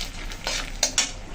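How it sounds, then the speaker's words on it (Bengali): Dry red chillies and a bay leaf hit hot oil left over from frying fish, giving a close, steady sizzle with two sharp crackling bursts near the end and a faint clink of a utensil. "আমি ফোড়ন এখন দিয়ে দিচ্ছি শুকনো লঙ্কা,"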